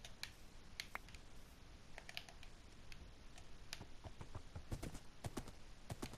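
Horse hooves clip-clopping in Minecraft on PlayStation 4, light irregular clops scattered over a faint background with keyboard-like clicks mixed in.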